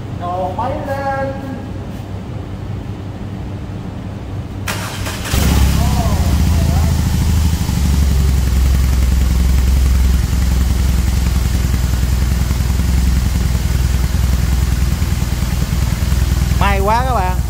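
A BMW R18 motorcycle parked in an underground garage cranks briefly and then fires up, settling into a loud, steady, close idle that continues to the end, with someone talking before it starts.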